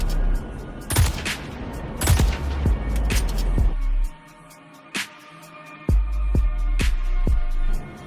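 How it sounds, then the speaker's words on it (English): Single shots from the Scalpel sniper rifle in the video game Star Citizen, several sharp loud reports spaced about a second apart over steady background noise, with a brief quieter gap midway. "let's take a quick look at those barrels again to see what it looks like shooting one bullet at a time"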